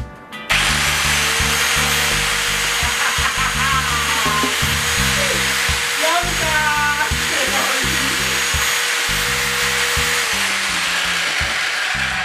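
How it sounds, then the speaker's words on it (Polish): An electric drill with a fork fixed in its chuck, used as a mixer in a kitchen while baking a plum cake, whirring loud and close in repeated bursts with a scraping, rattling hum and changing speed. "Należy tylko widelec przymocować do wiertła, żeby się nie odczepił."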